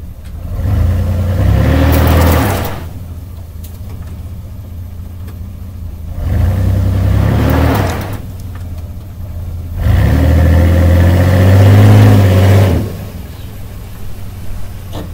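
Truck engine in four-wheel drive revving in three loud surges separated by quieter idle-level rumble, close and steady, no talk over it.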